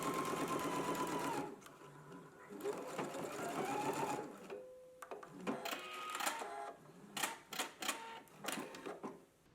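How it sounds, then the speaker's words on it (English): A sewing machine runs a straight stitch along a flat felled seam, a steady mechanical whir broken into short bursts with pauses and handling noises between runs. A voice speaks briefly near the start. "we're going to go to the machine and we're going to stitch close to this opening"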